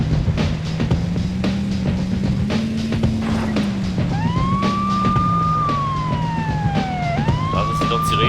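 Police siren in the video game Beetle Adventure Racing, a wailing tone rising and falling over a steady engine drone, with a second siren sweep joining partway through; loud and continuous throughout.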